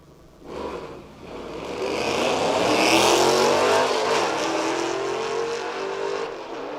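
Two grudge drag racing cars launch and accelerate down the strip, a building roar that swells over a few seconds and holds loud before slowly fading, heard from the stands with no talk.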